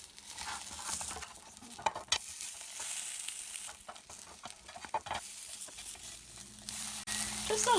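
Flipped meat patties fry in a hot pan, a steady broadband sizzle with scattered clicks and scrapes from a utensil pressing them down, close and moderately loud, with no speech.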